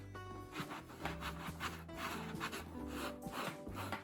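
Banana peel rubbed over a patch of damaged leather, a soft continuous scuffing and rasping texture with repeated strokes, fairly close and quiet, no talking.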